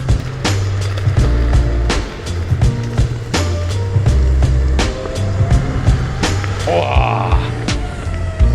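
A Horizon electric skateboard on grippy tires rides and accelerates, producing a loud, continuous close-up rolling rumble with frequent clacks and bumps.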